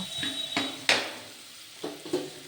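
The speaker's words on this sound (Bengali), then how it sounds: "এবার আমি আবারও একটু এটাকে নাড়াচাড়া করে ঢাকা দিয়ে আলুটা ভাজা করে তুলে নেব" Potatoes frying in a pan are stirred with a utensil, giving several separate scraping knocks and clinks over a soft background sizzle.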